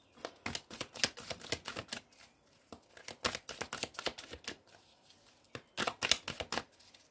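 A deck of cards being reshuffled at a table, with bursts of rapid riffling and crisp flicking in several quick rounds separated by short pauses, close and fairly clear with no talking.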